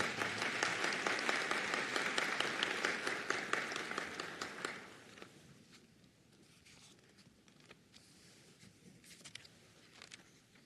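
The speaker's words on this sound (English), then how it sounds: "Clap it up for Megan." An audience at a graduation ceremony applauds an award recipient with dense, steady clapping for about five seconds, then fades to a few scattered claps and faint room noise.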